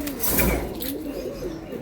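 A pigeon coos softly up close, a low rounded warble rising and falling over about two seconds, with a faint rustle at the start.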